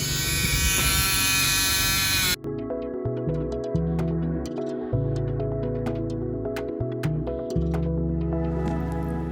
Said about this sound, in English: so this side I will remove with Dremel